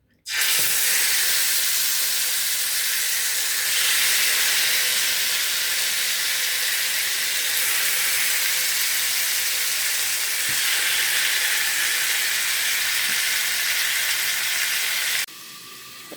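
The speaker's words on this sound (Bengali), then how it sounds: "এখন হচ্ছে চুলার মধ্যে দিয়ে দিব। এটা ভাজা হোক" Chicken meat fries on a stove in a loud, steady hiss and sizzle of hot oil that runs unbroken for a long stretch before it abruptly drops in level near the end.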